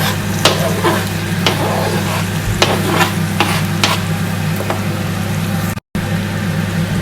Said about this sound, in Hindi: अब हम इसमें टमाटर ऐड करेंगे जो हमने चॉप किए हुए थे